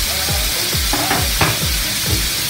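Tomatoes going into sizzling menudo in a pan, with a steady fry hiss under repeated scraping stirs of a utensil, close and loud, no talking.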